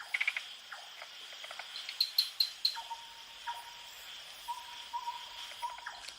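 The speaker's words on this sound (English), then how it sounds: "A night owl," An owl hoots at night in a Thai forest, delivering a few soft, evenly spaced low notes over a constant shrill chorus of crickets and insects.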